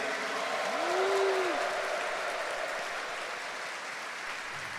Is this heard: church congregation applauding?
yes